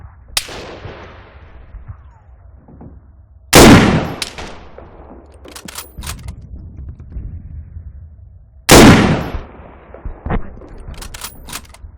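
Rifle shots in the Arma 3 game with the IFA3 war mod ring out as two loud, sharp cracks several seconds apart, each trailing off in a long echo. Fainter mechanical clicks and bolt handling fill the gaps.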